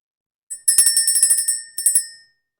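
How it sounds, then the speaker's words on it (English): A strong, bright bell rings out alone in a fast burst of about ten rapid strikes, then falls silent and gives two or three quicker rings before fading. "that was a good, strong bell"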